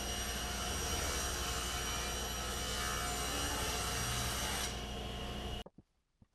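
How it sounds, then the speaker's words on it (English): A table saw rips wooden panels to width for a gallery reception desk, giving a loud, steady, close whine that runs for over five seconds and then cuts off abruptly, leaving faint clicks. "adjusted the table saw, and ripped them to width"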